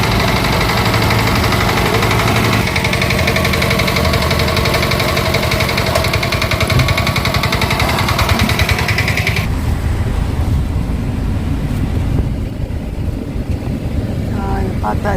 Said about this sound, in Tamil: செல் டிராக்டர், மினி டிராக்டர் நாங்கள் போன வண்டி.